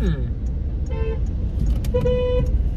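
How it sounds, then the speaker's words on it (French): Car horn honking in traffic, a short toot followed by longer blasts, loud and close, with road noise and engine hum underneath. "Pourquoi tu me klaxonnes, toi?"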